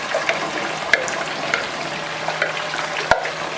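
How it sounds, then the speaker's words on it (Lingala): Chicken thighs fry in a pan, giving a continuous close sizzle broken by occasional light clicks and scrapes of stirring, with no voices. "tozo kalinga ngo"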